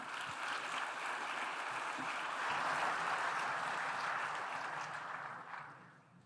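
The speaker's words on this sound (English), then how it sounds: "Kindly welcome him with a warm round of applause as he makes his way to the stage" Conference audience at the Africa Protected Areas Congress claps steadily as a speaker walks to the stage, a faint, even wash of applause that fades near the end.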